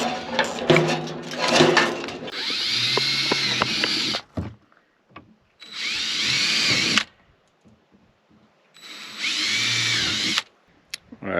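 A power drill whines in three long bursts, close and loud, drilling holes during a gold wash plant build, separated by brief pauses with faint clunks and handling noises.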